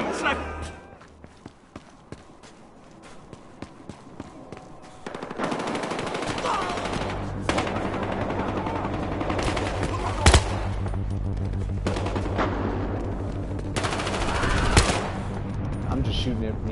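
Battlefield Hardline gameplay: dense bursts of automatic gunfire and single shots crackle steadily through most of the stretch, starting quieter then becoming continuous and loud.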